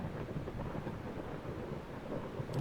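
Steady rain falls in Eastshade, a dense even hiss with a low rumble beneath it, continuous and close, with no voices.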